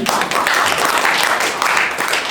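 An audience at an IT services industry event breaks into applause, a thick, continuous wash of many clapping hands filling the short stretch.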